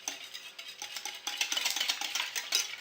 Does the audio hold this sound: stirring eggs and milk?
yes